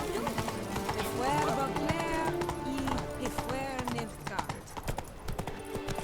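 Horse hooves clip-clop at a steady trot in The Witcher 3, with game music and a neigh mixed in, as someone talks over the gameplay throughout.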